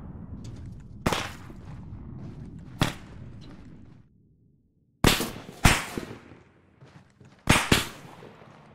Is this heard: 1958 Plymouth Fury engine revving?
no